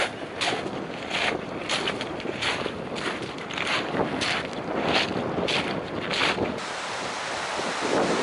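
Steady wind buffets the microphone outdoors near water in drizzly rain in Scotland, a constant rushing roar with gusty bursts, no voices.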